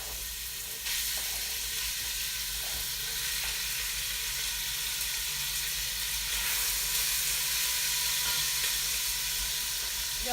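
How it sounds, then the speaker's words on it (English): Chicken pieces sizzling in a very hot pot while cooking chicken Marsala, a continuous loud hiss and crackle of frying with no talk. "I'm going to throw the chicken in real quick. You might hear it sizzle."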